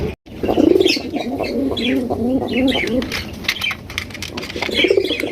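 Pigeons coo close by at a busy pigeon market, a continuous overlapping burble with scattered chirps and wing flutters, mixed with people talking in the background.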